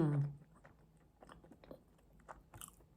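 A bite of Kyoto marble bread with Greek yogurt is chewed close to the mic, soft crunchy bites and mastication at low volume after a brief voice.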